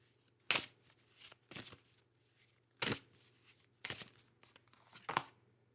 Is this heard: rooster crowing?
no